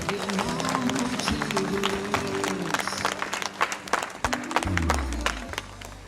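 Thunderous applause from an audience at a sports association award ceremony, a dense, sustained wash of clapping with an underlying hum of crowd noise and voices.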